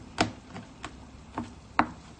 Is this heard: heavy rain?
no